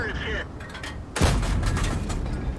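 A tank cannon in World of Tanks fires one loud, sudden, broadband blast about a second in, set against steady battle ambience. A sustained rumbling tail follows under the game audio.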